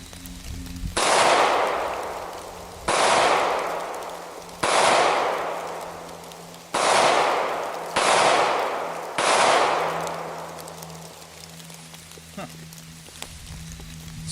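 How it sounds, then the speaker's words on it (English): Six loud gunshots from a Sig Sauer P938 compact pistol ring out in an uneven series, each with a sharp crack and a long fading tail, followed by a few seconds of quieter background. "we're going to take a few shots right off the bat"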